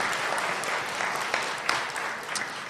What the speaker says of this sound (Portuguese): Vamos fazer uma salva de palmas para eles.